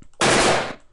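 A short loud burst of automatic gunfire from a Unity 3D demo with a bullet-shell eject system, one dense blast lasting about half a second, then another shot begins right at the end.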